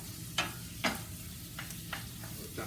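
Sausage browning in a pan for biscuits and sausage gravy, a low steady sizzle punctuated by a few sharp scraping taps of a utensil against the pan, fairly quiet.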